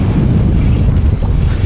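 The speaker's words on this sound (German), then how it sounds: "Vorsicht, Wellen von hinten," Large waves rolling in behind a fishing boat out on open water, a loud, continuous low rumble of surf and hull wash mixed with heavy wind buffeting the microphone, with no talking.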